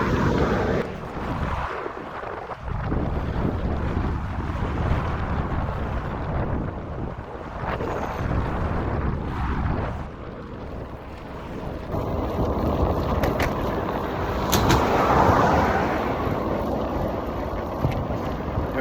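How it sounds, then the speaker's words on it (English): Heavy wind buffeting a microphone while riding across a traffic bridge, a loud continuous low roar with gusty swells and no talking. "it's going to get a bit noisy with the wind"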